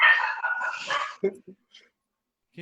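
A dog indoors lets out a few short, sharp barks and yips, first under a person talking and then alone in a quieter stretch.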